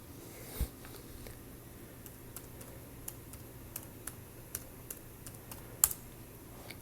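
Keys clatter on a laptop's built-in keyboard in a quiet classroom, sparse irregular taps with one louder click, alone without any voices.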